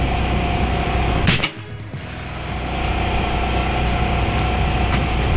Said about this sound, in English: Pushed into the breech, bolt closed. And firing.